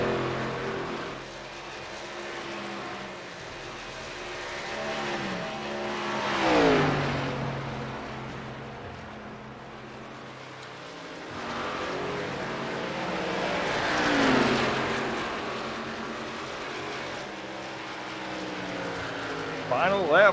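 Race cars lap a Texas track during a championship race, engines rising and falling in two long passing swells with Doppler drops, steady and fairly loud, with commentary talk over the top.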